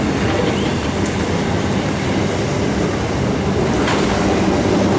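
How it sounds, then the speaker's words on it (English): A train rolls through Goodwood Station in Adelaide, a loud continuous rumble with faint wheel clatter and occasional squeal, close by and steady throughout, with no talk. "Whilst this train is going through"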